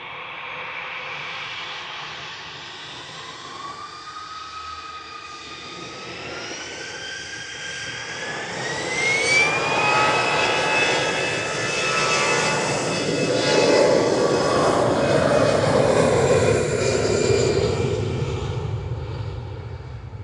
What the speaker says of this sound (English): that was EasyJet's GEZUF departing to the Isle of Man with flight 715